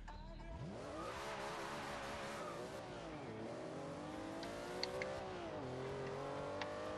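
A RUF RT 12 S sports car driven off road in Forza Horizon 2 on Xbox One: the engine revs up sharply, then holds a steady, loud drone with gear-change dips and rises, close and continuous.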